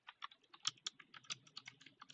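Computer keyboard typing, a quick irregular run of soft clicks, faint and close with no talk.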